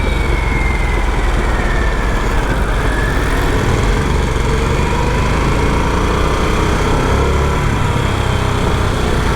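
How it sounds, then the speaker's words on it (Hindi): A Harley-Davidson Sportster S motorcycle's engine and exhaust rumble steadily and loudly throughout, a continuous low drone with road and wind noise mixed in, no voices. "एग्जॉस्ट का साउंड भी काफ़ी अच्छा है। I won't say it's the typical Harley sound"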